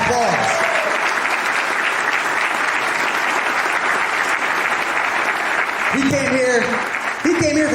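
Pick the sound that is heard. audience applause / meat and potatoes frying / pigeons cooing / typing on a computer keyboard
audience applause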